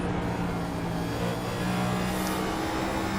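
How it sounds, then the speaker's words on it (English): Stock race cars roar past on the Bristol short track during a championship race, a steady loud engine drone with a slight swell as cars go by, no talking. "as you can hear these cars come by"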